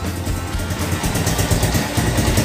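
Honda Tiger 2000 motorcycle engine while riding, a loud, close, steady mid-pitched drone with a rough pulsing rhythm that holds firm throughout, no talk over it.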